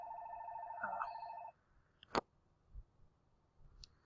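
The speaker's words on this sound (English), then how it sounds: "my phone was ringing" A telephone rings with a steady electronic trill for about a second and a half, then cuts off, leaving a quiet room with a few faint clicks and taps.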